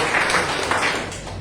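Brief, steady clapping from a church congregation at a Communion Sunday service, a dense patter of many hands filling the space for a moment.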